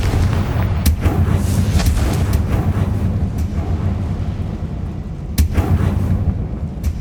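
Explosive spell blasts in the Hogwarts Legacy video game, booming over a steady loud rumbling background, with sharp broadband hits near the start and again later.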